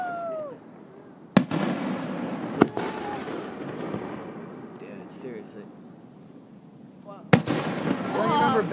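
Fireworks at Hayden go off in three sharp, loud bangs spaced several seconds apart, each followed by crackling and fizzing, while people talk excitedly throughout.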